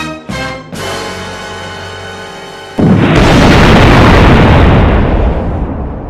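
A volcanic eruption booms as a single massive, loud explosion that breaks into a sustained roaring rumble, preceded by a few short tonal sounds.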